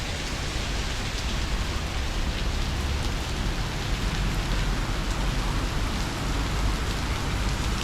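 Steady heavy downpour on a Macau street in Taipa Village, hammering a rain guard overhead; a constant, loud, hissing roar fills the scene close by without any talking.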